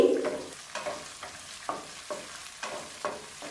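Chopped onions, green chillies, ginger and curry leaves fry in a pan for semiya upma, a soft sizzle broken by a regular series of stirring scrapes about every half second.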